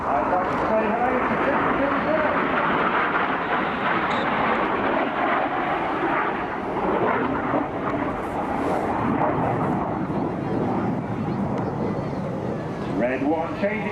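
Red Arrows display jets flying over the Sunderland Air Show, a loud, continuous roaring rumble of jet engines that fills the whole stretch, with a commentator talking over it.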